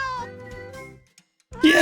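Video-game cat in Therapy Simulator gives a few clear, close meows in a row, then a short pause before a louder burst of excited voice.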